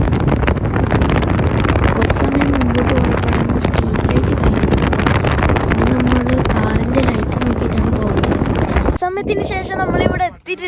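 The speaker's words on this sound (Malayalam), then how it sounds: "ഇവിടെ നല്ല കാറ്റുണ്ട്" Strong wind buffets the microphone in a loud continuous rumble, then drops away abruptly near the end.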